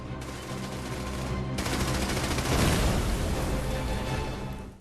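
Dense, sustained machine-gun and rifle fire in an attack on a German machine gun nest, a continuous rattling barrage that swells louder midway with booming blasts, no voices.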